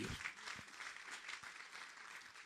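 Faint applause rises from a church congregation during a sermon, a soft continuous patter of clapping heard from a distance at low level.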